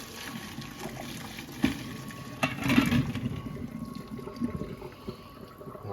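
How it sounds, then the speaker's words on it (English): Boiled red potatoes and their cooking water poured into a colander in a kitchen, a steady splashing rush of liquid with a few louder sloshes midway, no talking. "So we're going to take these and we're going to pour them in our colander here"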